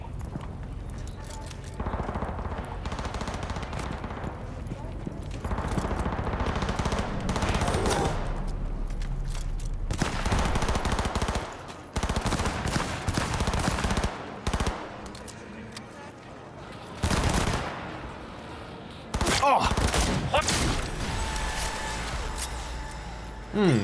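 Video game gunfight with repeated bursts of machine gun fire, loud and close, broken by brief pauses, while a player occasionally talks over the shooting.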